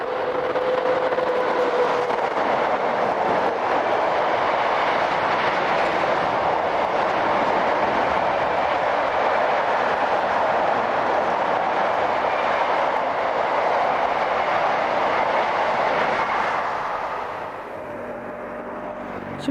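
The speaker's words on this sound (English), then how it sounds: "Approaching Parma is number 246 on a northbound train of car empties" A northbound freight train of empty car carriers hauled by locomotive number 246 approaches Parma, a loud, steady rolling rumble lasting nearly the whole stretch before easing off at the end.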